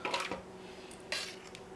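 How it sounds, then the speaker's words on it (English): A spoon scraping and clinking against dishes while roast is spooned into a food processor in a home kitchen, a few sharp metallic taps and scrapes separated by quiet. "So we set this roast right here, and then we start spooning"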